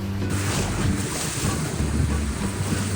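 Big ocean waves break on a Mexican coast with a loud, continuous roar and rush of surf, mixed with heavy wind buffeting the microphone.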